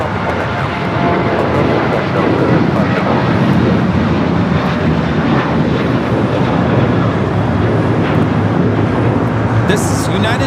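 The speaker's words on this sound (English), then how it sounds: "United Airlines 2741 taking off to Las Vegas on the 737-800" A United Airlines Boeing 737-800 jet takes off at LAX, a loud continuous roar of jet engines filling the whole stretch, steady and near.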